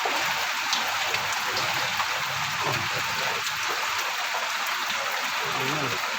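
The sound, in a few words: steady rain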